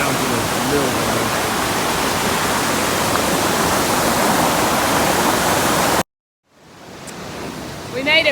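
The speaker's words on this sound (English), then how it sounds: "that water starts rolling down that trough" Water rushes down a wooden trough toward Spring Mill in Indiana, a loud, steady roar that cuts off abruptly near the end, followed by faint outdoor ambience.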